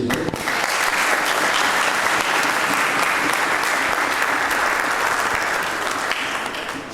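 An audience at the closing ceremony of a seminar for provincial councillors' offices applauds the director general, sustained loud clapping from a large crowd that fills the room for several seconds before easing slightly at the end.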